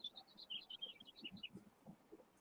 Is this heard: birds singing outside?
yes